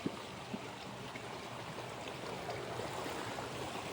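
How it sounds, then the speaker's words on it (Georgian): A small mountain stream flows with a steady, soft rushing and trickling wash of water, fairly quiet and continuous with no voices. "ღელეები, მდინარეები,"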